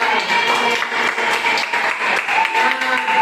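A class of students applauds during a volleyball passing-technique lesson, a sustained, moderately loud patter of many hands with tonal voices and chatter mixed in.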